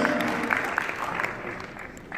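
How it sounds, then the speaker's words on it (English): Applause from an audience for new owners, a moderate wash of clapping and crowd murmur running steadily, with a few distinct claps standing out. "So a big round of applause then for our new owners."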